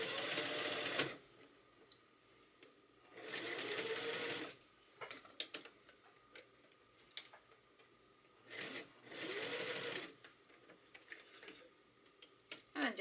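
A sewing machine stitches the hem of a suit coat sleeve in three short whirring runs with quiet ticks and fabric handling in between, close and with no talk.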